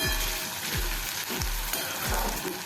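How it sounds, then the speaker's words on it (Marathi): Potato pieces fry with onion in a pan for kanda batata poha, a steady close sizzle with soft stirring scrapes recurring about every half second. "बटाटे पण आपण जरा 1-2 मिनिटं आपण फ्राय करून घेऊया"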